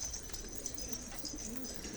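Soft, low cooing of a pigeon repeats a few times against a faint, steady outdoor background, distant and quiet.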